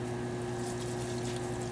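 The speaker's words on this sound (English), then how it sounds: "get your sponge and flush the water like crazy on this lap." Water washes over a spinning lapidary hyper edge lap while polishing quartz, a steady faint gushing under a constant motor hum with no talk.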